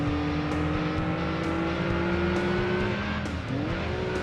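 A Subaru Impreza with a boxer engine races in Gran Turismo 2, its steady droning engine note holding and rising, with faint tire squeal and a gear-change dip near the end, loud and without talk.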